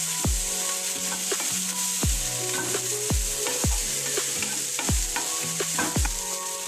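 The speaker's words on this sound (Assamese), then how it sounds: "এতিয়া এইখিনি মই অকণমান ভাজি ল'ম।" Fish frying in oil with dried shewali flowers, salt and turmeric, a loud continuous sizzle broken by regular sharp metallic knocks of a spatula against the pan roughly once a second, close up and without speech.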